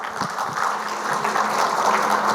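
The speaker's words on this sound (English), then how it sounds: "Can we have a huge round of applause for them?" Applause at a development summit for a moderator and panelists, a steady, moderately loud spread of clapping with a faint low hum underneath.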